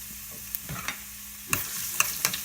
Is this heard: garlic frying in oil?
yes